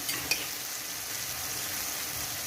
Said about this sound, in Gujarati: આપણે જ્યાં સુધી ઓગળી ના જાય ત્યાં સુધી આપણે ટામેટાને સાંકળી લેવાના છે